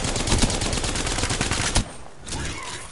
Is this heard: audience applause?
no